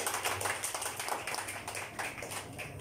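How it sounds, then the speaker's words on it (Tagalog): Church congregation clapping in praise during a worship service, a quiet, rhythmic patter of many hands. "Palakpak po sa ating Panginoon na buhay."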